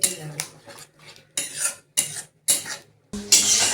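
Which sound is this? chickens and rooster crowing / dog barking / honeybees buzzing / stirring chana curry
stirring chana curry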